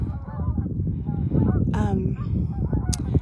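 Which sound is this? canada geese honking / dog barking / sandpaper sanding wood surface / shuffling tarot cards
canada geese honking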